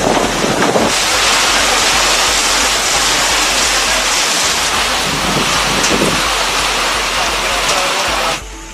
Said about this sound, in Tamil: சூறை காற்றுடன் கனமழை பெய்தது